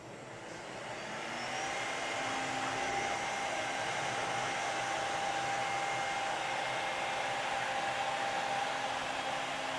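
A CNC router spindle turning a cutter at 18,000 RPM, with a dust extractor running, rises over the first two seconds into a steady, loud, airy whine with a faint tonal hum. No one speaks.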